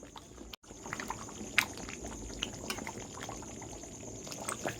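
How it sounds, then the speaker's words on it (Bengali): Mutton curry gravy boils in a pot with soft, continuous bubbling and occasional gurgling pops, fairly quiet and close, with one brief dip to near silence early on. "ঝোল দেখো ফুটতে শুরু করে দিয়েছে"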